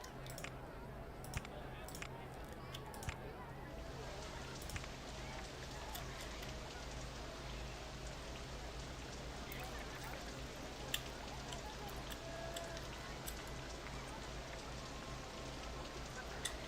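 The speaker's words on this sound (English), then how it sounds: "And it's gonna rain." Steady rain hisses continuously in RollerCoaster Tycoon (OpenRCT2), with scattered crackling raindrops over a low, constant background hum.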